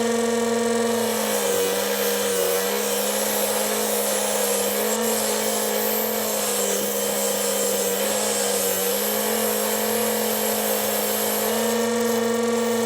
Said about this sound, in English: drill a new hole through it